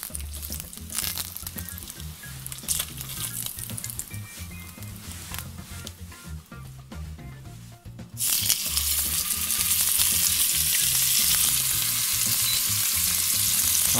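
Pieces of ventrèche pork belly sear in a hot pan with continuous crackling and frying, close up, the sizzle growing suddenly louder and brighter partway through as the pieces hit fresh heat.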